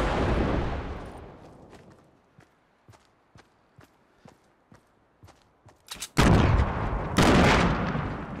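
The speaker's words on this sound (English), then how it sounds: "Incoming rocket." A rocket strikes and explodes in Fortnite on Xbox One, a sudden loud broadband roar bursting in after a run of sparse, evenly spaced footstep-like thuds, then a second heavy blast right behind it.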